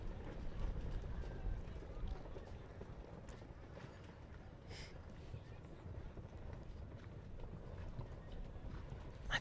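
Faint, distant hoofbeats come from a show jumping horse on an outdoor grand prix course, soft thuds over a quiet, airy background.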